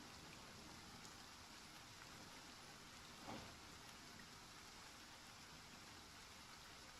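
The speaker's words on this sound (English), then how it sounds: "It'll look better once it stops raining." Rain falls in the video game Aniimo, a faint, steady patter and hiss of rainfall with one soft louder splash partway through and no other sounds.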